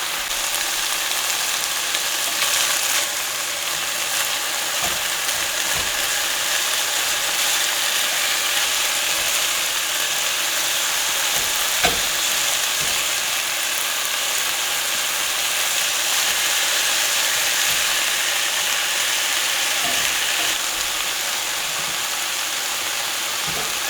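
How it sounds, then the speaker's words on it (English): Frozen onions and meat cooking together in a pan give a steady, loud hiss and crackle that runs unbroken throughout, with occasional faint clinks and no talking. "going to get some onions in here to cook while that meat finishes cooking"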